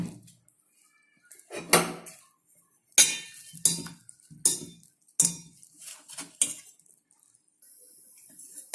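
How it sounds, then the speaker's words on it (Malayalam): Dosa batter stirred with salt in a bowl gives a run of sharp, separate spoon clinks and knocks, irregular and close, with quiet pauses between strokes. "ഇത് നന്നായിട്ട് മിക്സ് ചെയ്ത് ഒരു ദോശമാവിന്റെ പരുവത്തിൽ മിക്സ് ചെയ്തെടുക്കാം"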